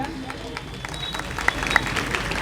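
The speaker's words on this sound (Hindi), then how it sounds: "आपकी तालियों की गूंज" Audience at a coaching-class award ceremony applauds steadily, a dense patter of clapping at moderate loudness throughout, with no talk over it.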